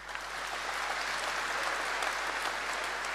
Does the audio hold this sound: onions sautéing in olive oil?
no